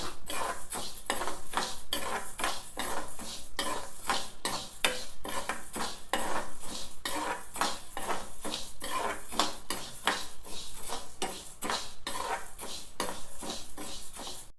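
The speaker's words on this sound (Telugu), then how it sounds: "ఇప్పుడు కళాయి వేడైంది. పెసరపప్పు వేయించుకుందాం." Moong dal dry-roasting in a hot kadai, stirred steadily so the dry lentils rattle and scrape against the metal in a dense, continuous clatter with repeated sharp scraping strokes, close and loud throughout.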